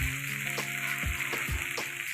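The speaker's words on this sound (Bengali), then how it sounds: "এবার ভাজা মশলাটা দিয়ে দেবো, জিরে বাটা আর শুকনো লঙ্কা বাটা দিয়ে দেবো" A fried paste of ground cumin and dried red chilli goes into a hot pan for an aar fish curry, giving a close frying hiss with a few soft thuds and scrapes and a faint steady hum behind it.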